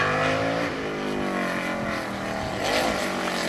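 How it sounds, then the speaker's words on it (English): A massive Chevy V8 race car engine roars past on a track, its droning pitch sliding down then rising again as it passes, loud and continuous. "It's great to listen to that massive Chevy engine as it goes around the track."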